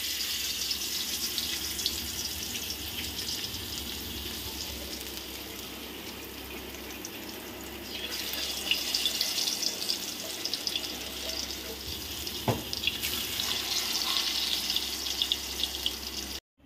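Thin slices of ghot kochu frying in hot oil for homemade chips, a steady, close hiss and crackle of bubbling oil throughout, alone without talk.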